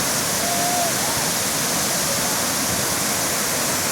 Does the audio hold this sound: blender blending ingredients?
no